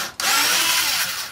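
A driver drill in drill mode drives a 65 mm coarse-thread screw into wood, whirring loudly for about a second after a brief pause, its pitch steady before easing off slightly at the end.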